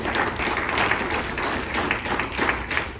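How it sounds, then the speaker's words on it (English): A crowd applauds staff members at a workforce panel event, a steady wash of clapping that holds at even strength from start to finish with no voices rising above it. "Give them a round of applause, please."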